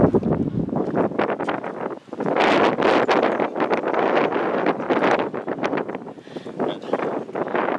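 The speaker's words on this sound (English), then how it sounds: "It's windy today" Strong wind buffets the microphone in a constant roaring rush near Conwy, Wales, gusting louder and softer throughout with no clear voices.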